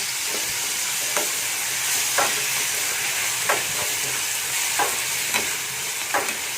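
Finely chopped tomato and curry leaves fry in hot oil, a loud, steady sizzle with regular scraping stirs about once a second.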